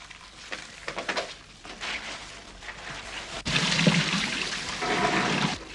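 Rushes are washed in warm soapy water, with a steady wet sloshing and trickling that swells into louder, fuller rushing water partway through, close and alone without talk.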